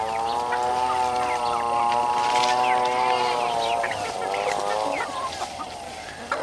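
Native chickens and hens in a backyard coop cluck and chatter continuously close by, with a steady drone and someone talking over them throughout.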